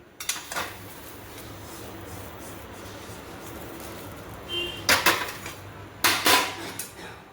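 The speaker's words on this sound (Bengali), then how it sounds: "এবার আমি একটা প্লেটে ঢেলে রাখছি" Fried semolina scraped and tipped from a pan onto a plate, with metal utensil clinks and scrapes against cookware, close and intermittent, sharper clatters near the end.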